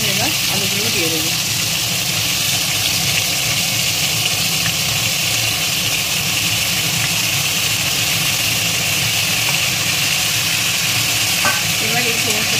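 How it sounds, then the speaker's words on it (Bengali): Ridge gourd and potatoes frying in hot oil, a loud, steady, dense sizzle with faint stirring scrapes running throughout, close up. "এবার এই সমস্তটাকে একটু ভালোভাবে হালকা লাল করে ভেজে নেব।"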